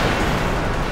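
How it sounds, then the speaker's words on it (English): A big explosion in the video game Copy Kitty, a dense, steady roar of crackling noise that fills the whole second at high level, with no clear separate blasts. "Big explosion. Fell into pieces."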